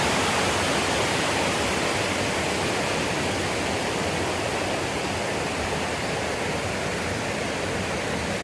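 The stream at Bodakonda waterfall near Hyderabad flows with a steady, loud, close rushing roar of water, constant throughout with no voices.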